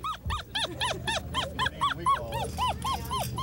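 A puppy, such as a young hound or bird-dog pup shown at an outdoor sportsmen's fair, gives a quick series of high yips and barks, about a dozen in a rhythmic run, fairly faint and alone.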